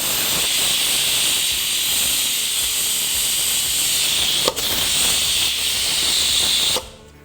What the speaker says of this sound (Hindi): आपका प्रेशर कुकर है जी